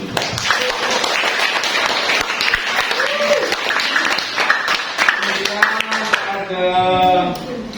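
An audience claps for the guests at an event, with brisk, continuous applause throughout and voices speaking over it before it fades out.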